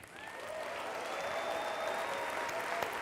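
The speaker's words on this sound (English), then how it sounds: "please join me in clapping some of the most fantastic human beings in the world" Steady, sustained audience applause from a large crowd at a youth summit address fills the whole stretch evenly, with a faint whistle riding over it.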